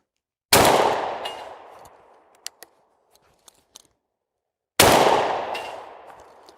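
Two loud, close shotgun blasts about four seconds apart from a Chinese-made Zhongzhou cylinder-bore shotgun, each decaying with a long echo, with light clicks and handling noises between them.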